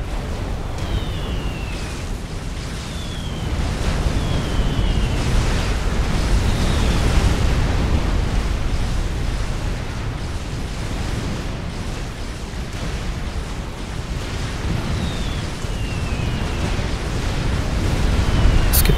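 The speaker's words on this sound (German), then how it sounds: "Eine schöne Explosion." Explosions and booming blasts in the real-time strategy game Supreme Commander, a cooperative UEF match with bombers, form a dense, loud, continuous rumbling roar lasting throughout.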